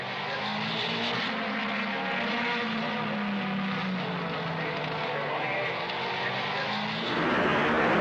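1962 Formula One race cars, including Bruce McLaren's Cooper followed by Dan Gurney, roar past loudly. A continuous engine drone dips and rises in pitch as they pass, with a surge at the end.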